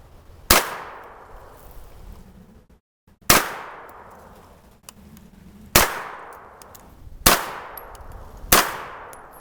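Five sharp, loud gunshots from a shorter-barrel Hi-Point carbine ring out one at a time, each followed by a decaying echo, spaced a couple of seconds apart outdoors.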